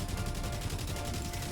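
Rapid, continuous gunfire from the video game Helldivers crackles in steady bursts at low level, with no voices over it.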